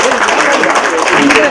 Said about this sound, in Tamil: அதற்கு எல்லாருக்கும் ஒரு பெரிய நன்றி சொல்றதற்கு ஒரு கரகோஷம் கொடுத்திருக்கிறார்